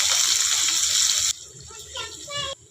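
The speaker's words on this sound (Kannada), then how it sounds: "ಚೆನ್ನಾಗೆ ಫ್ರೈ ಮಾಡ್ಕೊಳ್ಳೋಣ." Onions and curry leaves fry in a pan for a North Karnataka sprouted green gram dish, giving a loud, dense sizzle for the first half before it drops away and a person talks over quieter background.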